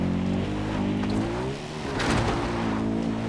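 Car in Far Cry 4 cruising on auto drive, a steady engine drone with harmonic whine that rises slightly near the end, loud and continuous with no talk.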